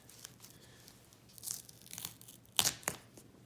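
A glued twine raised band being peeled off the cardboard spine of a 1655 book, quiet tearing and crackling rips in several short bursts, the loudest two near the end, with no talk.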